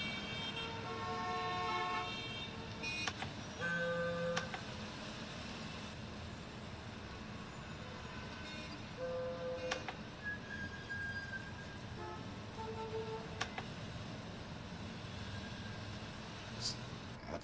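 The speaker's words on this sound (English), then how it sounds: "too many honking cars and stuff like that" Car horns toot repeatedly outside, short bursts and a few longer blasts scattered over a constant traffic rumble, moderately distant and steady throughout.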